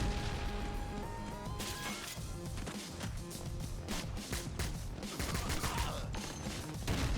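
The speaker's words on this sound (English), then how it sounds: "grenades, my favorite fiery explosive" Grenades go off in a video game: a string of sharp explosive bangs and crashes, loud and irregular, some in quick bursts, over a busy background of game sounds and music.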